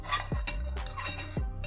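A small metal pan clinks and scrapes as it is set onto the fins of a mini camping stove, giving a few close, light metallic knocks.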